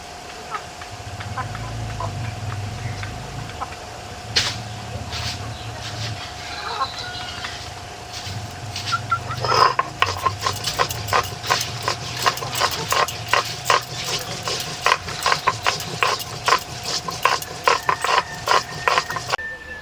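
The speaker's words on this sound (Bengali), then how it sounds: "জিরে আদা শুকনো লঙ্কা এখন বেটে নেব" Cumin, ginger and dried chillies are ground by hand in a home kitchen. After a quieter start with a low hum and faint voices, the grinding becomes a dense run of rapid, rhythmic scraping clicks.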